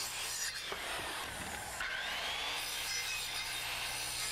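A saw cuts through a wooden stair stringer with a steady, rasping buzz that holds close and even for a few seconds, no voices over it.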